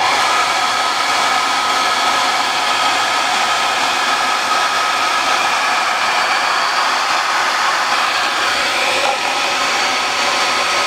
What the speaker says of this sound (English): you can use the hairdryer trick.